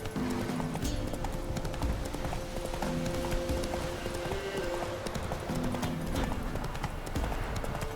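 Roach, the horse in The Witcher 3, trotting toward Oxenfurt with a steady, even clip-clop of hooves over a soft, sustained musical backdrop.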